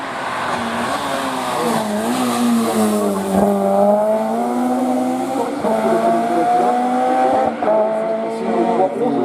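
A Volkswagen Golf hill climb race car with an engine over 300 hp screams up the Turckheim–3 Épis course, its engine note rising and falling through gear changes, loud and sustained under a commentator's talk.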